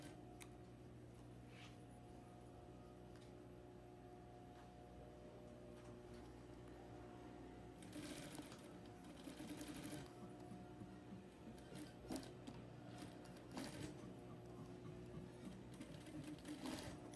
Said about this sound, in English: Sew slowly from the bottom toward the new measurement, following the chalk mark carefully.